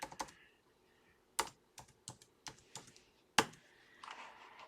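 Typing on a computer keyboard to fill a text field in an Adobe Acrobat Pro DC form, a handful of close, crisp key clicks in short irregular bursts with quiet gaps.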